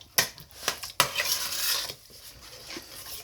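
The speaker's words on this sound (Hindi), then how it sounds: "मछली जो है ऐड करने से पहले अच्छी तरह से आप मसाले को हिला लें।" A spoon stirs fish biryani masala in a metal pot, with sharp scraping clinks against the pot followed by a steady soft rasp and faint sizzle, up close with no talking.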